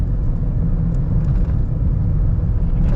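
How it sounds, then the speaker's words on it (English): Nissan Qashqai 1.6 first generation climbing uphill in third gear with the air conditioning on, a steady low engine drone and road rumble heard from inside the cabin, continuous and fairly loud with no talking. "We're third gear, we're an uphill. I don't have full throttle on all the gas, and the car goes"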